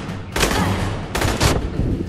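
Bursts of automatic gunfire from the Aliens: Colonial Marines video game, two loud rattling volleys close up with a brief gap between them.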